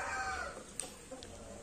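A KOB rooster crows near the start, a bright, drawn-out call that fades within about half a second, followed by faint background noise and a brief click.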